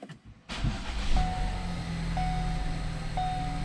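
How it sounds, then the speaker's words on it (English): A 2013 Ford Escape engine cranks and catches after a brief quiet moment, then settles into a steady idle with a faint repeating chime, close by. "All right, so let's start the car."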